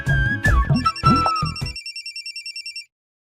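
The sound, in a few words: telephone ringing late at night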